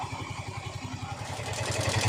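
A noisy Yamaha Mio i125 motorcycle engine before repair chugs at idle, an even, rapid low thumping with a faint rattling clatter on top, close and moderately loud, rising slightly toward the end.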